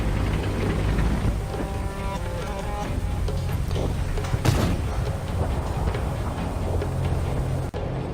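Tank cannons fire in the World of Tanks console game over a constant rumbling engine and battle din. One sharp, loud blast stands out midway, with a smaller crack near the end.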